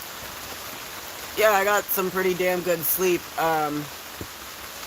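Heavy rain falls steadily on a tent and tarp at a campsite, a constant close hiss running beneath a voice as he talks.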